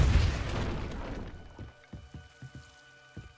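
A heavy magical blast booms out in Hogwarts Legacy, a deep rumbling burst that fades over about a second, followed by a scatter of small debris thuds and clatters.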